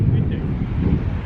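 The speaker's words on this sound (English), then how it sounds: "Crazy, how windy is it?" Strong wind roars and buffets directly against the microphone in a continuous low rumble, with a voice faintly buried beneath it.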